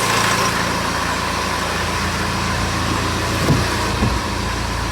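A 2008 Honda CR-V 2.2 i-CTDi diesel engine idling with a steady, even drone and a fairly loud, unbroken rumble, with one or two faint knocks near the end.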